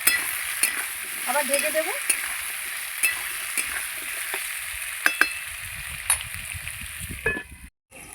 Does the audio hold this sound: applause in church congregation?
no